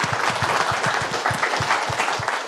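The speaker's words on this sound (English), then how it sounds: "Another round of applause, first of all." Conference audience applauding after a security talk, a dense, loud burst of clapping from many hands that holds steady throughout, with low thumps recurring under the clapping.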